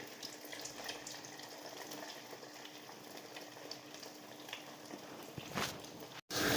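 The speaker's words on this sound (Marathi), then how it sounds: "ते सगळे आता या तेलात सोडून देते" Poha snack pieces fry in hot oil, a soft, steady sizzle and bubbling that stays quiet and even, then cuts off abruptly near the end.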